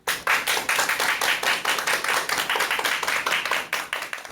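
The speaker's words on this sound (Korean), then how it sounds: "여러분, 큰 박수 부탁드립니다." An audience applauds steadily to welcome the speaker of a parenting lecture, dense clapping filling the hall at an even, sustained level with no voices over it.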